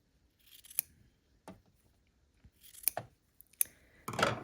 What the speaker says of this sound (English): Just going to cut that apart and then trim.